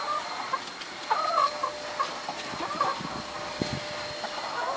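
Chickens cluck in short, scattered bursts while feeding on scraps of lamb, several birds close by, with a low voice murmuring faintly in the background.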